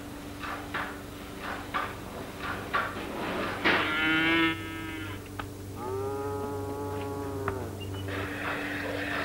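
Dairy cattle moo in a barn, several long, low, drawn-out calls in turn against a steady background hum, with a few soft knocks and clatters between them.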